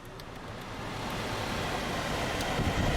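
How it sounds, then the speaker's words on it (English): A Honda Odyssey engine idles steadily with the air conditioning switched on, a dense, even broadband rumble and hiss that holds at constant loudness throughout, close to the microphone with no talking. "So as you can hear, the engine is running."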